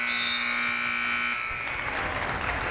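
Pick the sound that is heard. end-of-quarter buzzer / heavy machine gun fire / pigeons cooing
end-of-quarter buzzer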